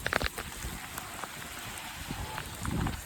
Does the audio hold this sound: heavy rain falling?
yes